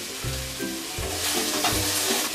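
A spoon stirs curry in a hot pan with salt, slit green chillies and roasted cumin, giving three rhythmic scraping strokes over a steady sizzle, close and with no talking.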